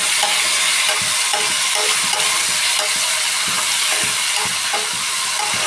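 Onions and tomatoes fry in a pan for an egg curry, giving a steady loud sizzle with light stirring scrapes throughout and no voices.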